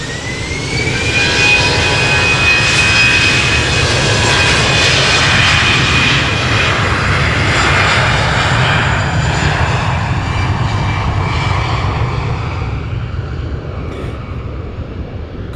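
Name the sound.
airliner jet engines, Air Baltic flight to Tallinn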